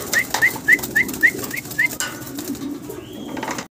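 Pigeons call close by with a quick series of about seven short, rising notes, then a softer call and light rustling, over a low background murmur.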